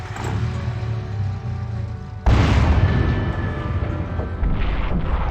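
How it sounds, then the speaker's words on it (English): Artillery fire in the Final Liberation Warhammer 40K strategy game, a battle of Orks against the Imperial Guard: a steady low rumble of distant bombardment, then a heavier boom that swells into sustained loud rumbling. "Perhaps I should just keep moving back and soften them up with the artillery"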